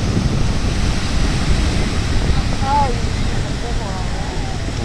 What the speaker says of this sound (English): Here we are at Venice Beach.